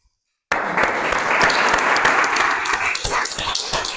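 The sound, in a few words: audience applause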